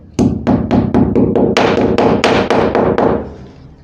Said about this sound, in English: using the hammer